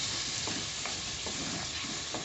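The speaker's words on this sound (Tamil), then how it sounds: "ஊற்றி நல்லா மசால் அந்த பச்சை வாடை போகிற வரைக்கும் இதை நல்லா கிண்டி விட்டுக்கோங்க" Ground onion, garlic, pepper and cumin masala sizzles steadily in a pan for an egg gravy, with a few soft scraping strokes of stirring spaced through the constant frying hiss.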